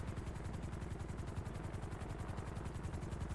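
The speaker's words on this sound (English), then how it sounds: "you hear the helicopter?" Helicopter flying overhead in a GTA roleplay game, a steady rapid rotor chop with engine drone, fairly loud and continuous throughout, no talking.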